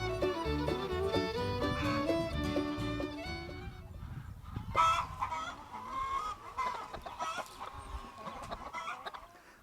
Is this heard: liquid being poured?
no